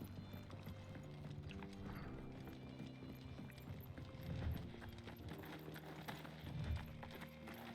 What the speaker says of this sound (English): our roommate is a horse